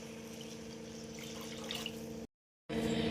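Water is poured from a cup into a cooking pot for making Maggi noodles, a steady close splashing stream that stops briefly and then resumes.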